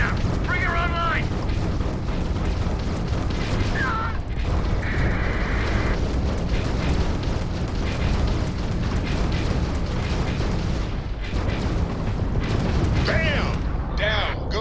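An explosion disables an enemy ship's grav drive in Starfield: a loud, rumbling eruption with booming bursts and mechanical clatter over a constant roar of space combat. Radio voices talk over the noise.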